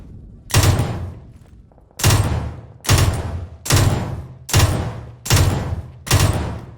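A newly added weapon in a video game fires in burst mode: seven loud, close bursts at an even pace, each ending in a short echoing tail, with no talking over them.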